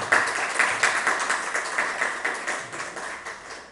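Audience applause in a lecture hall at a biology science week talk, steady scattered hand clapping of a moderate crowd heard alone, gradually thinning out toward the end.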